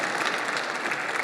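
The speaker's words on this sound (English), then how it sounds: "How about a little applause for everybody who's brave enough to speak" Brief burst of audience applause at a public talk on disagreeing better in Rochester, a steady, full clapping texture with no voices over it.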